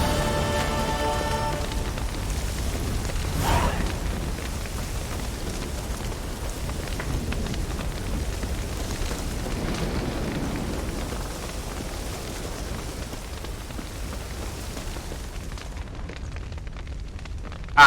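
A burning house in a video game gives off a continuous, crackling roar of fire with rain-like hiss, steady and moderately loud throughout, with a brief louder flare early on and no voices.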